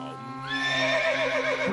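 A cartoon horse on a farm lets out a loud, rising whinny that breaks into a wavering neigh, close and clear with no talk over it.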